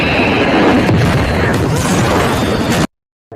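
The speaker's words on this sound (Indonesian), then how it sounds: "gadis itu langsung menciptakan ledakan api yang membuat John terpental" A loud, roaring fire explosion in a film scene, a dense, sustained blast with crashing debris that cuts off abruptly into silence.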